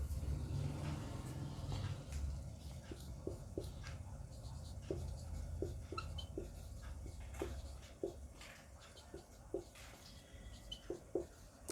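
Pen or chalk writing on a surface during an environmental studies lesson, with short scratchy strokes in an irregular rhythm and a faint low background hum, with no talking.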